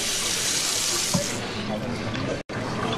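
Cold water runs from a tap in a steady, close hiss of flow, with a brief interruption near the end.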